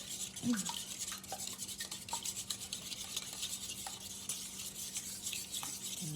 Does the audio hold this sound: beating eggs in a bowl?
yes